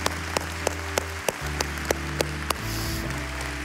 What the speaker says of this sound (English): Can we give God a round of applause?